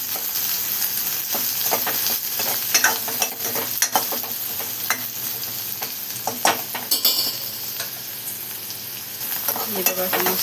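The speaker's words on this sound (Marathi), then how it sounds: "कांदे टाकल्याच्या नंतर असं मस्त आपण परतून घेऊया कांदा." Chopped onions being sautéed in a pan: a steady sizzle under repeated scraping and tapping of a spatula against the metal, close and fairly loud, with no talking.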